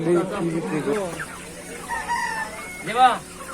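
Chickens at a busy town market cluck and squawk repeatedly close by, with a crowing call near the end, while people talk over them.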